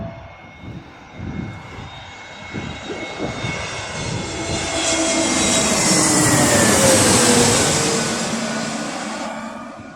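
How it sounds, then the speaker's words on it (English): An Airbus A321neo jet airliner at Birmingham Airport roars past, its engine noise building from a distant rumble to a loud, whining sweep and then easing away. "Again, I think it's another Airbus A320 or A321. Is it going to be the Neo version, which sounds like the 777?"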